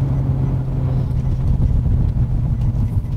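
Tuned Mazda Roadster sports car engine heard from inside the cabin while driving, a steady low droning hum with constant rumble and a little wind noise, moderately loud and continuous with no talk.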